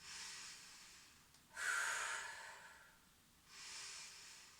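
Deep breaths taken during a daily energy routine exercise, two audible airy inhales and exhales, close but soft, with a quiet pause between them and no talking.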